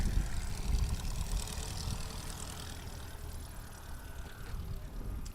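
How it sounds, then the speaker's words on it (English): A low, rumbling Yamaha-powered light aircraft drones steadily as it approaches at a STOL competition in Hartford, Wisconsin, loud and continuous with no voices. "Sounds like a Yamaha coming in."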